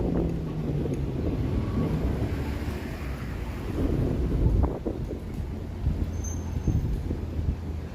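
Wind gusting through downtown Toronto on a Thursday evening, a low rumbling buffet against the microphone that swells and eases, with faint street background and no clear talk.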